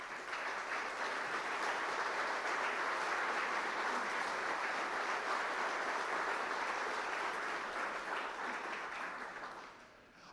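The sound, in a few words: audience applause for commissioners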